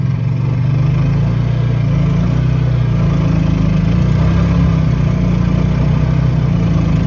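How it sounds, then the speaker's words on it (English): A generator idles on a hybrid electric golf cart while the cart sits stopped: a steady low engine drone with a constant hum, loud and close, with no talk over it. "You can hear the generator idling"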